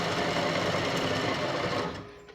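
A steady, high-pitched machine whir of a #1 centre drill cutting metal runs continuously, then winds down and fades near the end.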